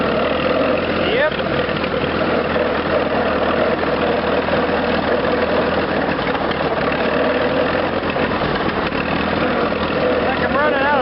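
A Farmall Regular tractor engine running in gear, a loud, continuous mid-low chugging drone with uneven, faltering sputters as if starved of fuel, with a voice speaking over it.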